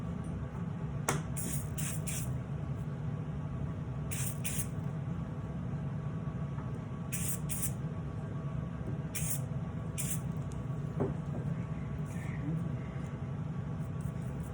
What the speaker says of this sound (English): I like to spray it down so it can disinfect everything